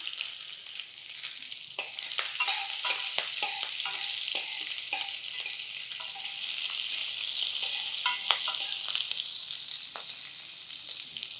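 Sesame seeds and green chillies fry in hot oil in a pan. A steady close sizzle runs throughout, broken by scattered crackles and small pops as the seeds burst.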